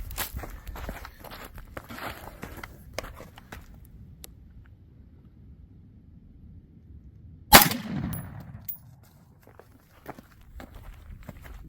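A single loud 5.56 rifle shot fired outdoors at a cheap body armor panel cracks sharply and rings out briefly, preceded by quiet shuffling footsteps and handling noise.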